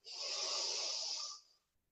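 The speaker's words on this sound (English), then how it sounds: "take a deep breath in" A single slow, deep inhalation drawn in through the nose during a guided breathing class, a soft steady airy rush lasting over a second, close and alone with no talk.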